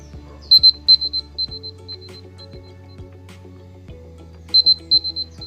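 A timer alarm for a home biomolecule experiment goes off with sharp, high electronic beeps in quick clustered bursts. A pause follows, then another burst of beeps, loud and close with no talking.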